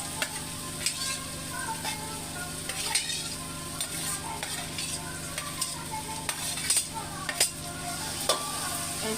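Thinly sliced carrot and potato stir-fry in a pan with a steady close sizzle, broken by repeated light scrapes and taps of a spatula at an irregular rhythm.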